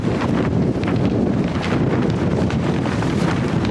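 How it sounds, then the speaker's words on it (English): Strong storm wind roars steadily in Maine, buffeting the microphone with a dense, loud, unbroken rush and no voices over it. "you can see the rafters blowing in the wind there"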